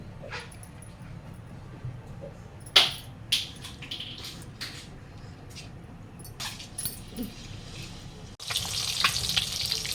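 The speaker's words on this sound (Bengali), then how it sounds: "ডিমটা আমি প্রথমে ভেজে নেব" Eggs frying in a little oil in a wok, a faint steady sizzle with scattered clinks and taps, swelling into a louder, brighter hiss near the end; a dog whimpers briefly in the background.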